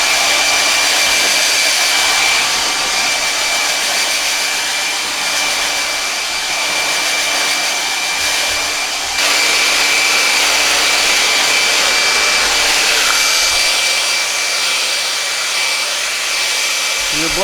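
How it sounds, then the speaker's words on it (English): Hand-held hair dryer blow-drying wet hair during a classic gentlemen's haircut at a barbershop, a steady loud whooshing motor roar with a high whine that runs continuously, briefly dipping and shifting as the dryer is moved. "When you're blow drying, you don't want to touch the blow dryer on the hair because you don't want to burn the hair."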